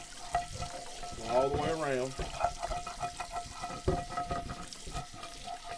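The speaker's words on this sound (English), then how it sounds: "So you just want to run a little hot water in there, and I'm going to start by sort of scraping some of the bigger stuff off" Hot water runs into a cast iron skillet while stuck-on food is scraped from the pan, with a steady wet rush and scratchy strokes close by under a person talking.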